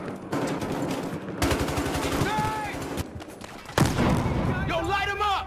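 Rapid bursts of automatic gunfire and booming shots in the video game Battlefield Hardline, loud and continuous, with excited players shouting over the shooting.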